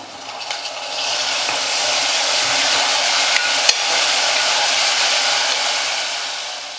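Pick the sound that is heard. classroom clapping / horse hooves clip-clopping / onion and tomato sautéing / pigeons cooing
onion and tomato sautéing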